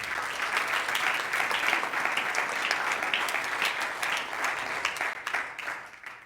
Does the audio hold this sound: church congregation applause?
yes